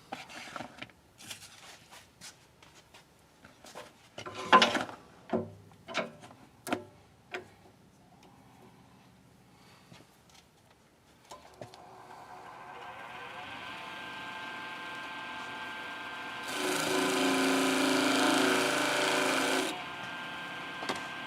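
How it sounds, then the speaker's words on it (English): A power tool polishing a handcrafted custom brush: some scattered knocks and clicks first, then a steady motor whir that builds and swells louder for a few seconds before easing off, close and without speech. "Now, it's polishing time."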